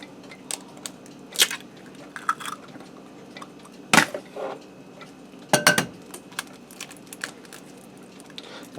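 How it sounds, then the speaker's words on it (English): Two eggs are cracked into a bowl of ricotta cheese, giving a few sharp clinks and taps of shell against the bowl rim, separated by quiet pauses with faint kitchen handling noises. "And I'm going to add 2 eggs into the ricotta cheese."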